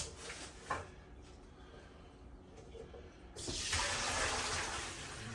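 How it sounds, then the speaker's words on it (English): Water pours out of a cooking pot into a kitchen sink while cabbage is being prepared, a steady rushing splash that starts abruptly partway through and continues loudly to the end, with quieter kitchen handling noise before it. "Let that drain, let all that water drain out of there."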